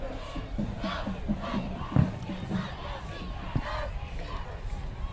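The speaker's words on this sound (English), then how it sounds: "Skyridge faithful only booing because of the delay." A home crowd at a Skyridge vs. Timpview high school football game boos steadily, a loud mass of voices with a few sharper shouts rising out of the din.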